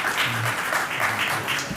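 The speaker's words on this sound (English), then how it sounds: "Appreciate the applause, folks," At a Clearwater city council meeting, the audience gives a short burst of moderate applause, uneven clapping that swells and dips slightly across the room.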